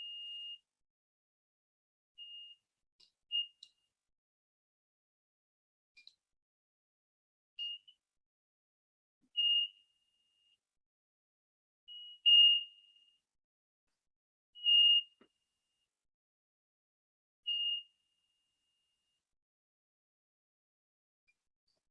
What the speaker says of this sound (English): when we reach our hand to the IR sensor, the bulb, light, and the buzzer make a sound.